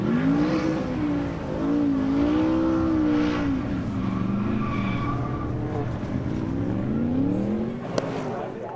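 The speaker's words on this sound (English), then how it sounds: "And pressure off, Adam Christodoulou found time to do donuts." A Porsche race car spins through donuts at the Nürburgring Nordschleife after a 24-hour race win, its engine droning and rising and falling in pitch with continuous tire squeal, loud and sustained throughout.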